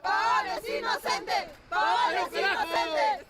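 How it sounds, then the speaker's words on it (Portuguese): Peruvian football fans outside the Court of Arbitration for Sport in Lausanne loudly cheer and chant at a player's arrival, two sustained bursts of massed voices with a short lull between them. "A torcida peruana fez muito barulho na chegada do jogador à sede do Tribunal Arbitral do Esporte"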